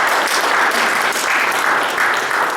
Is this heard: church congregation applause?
yes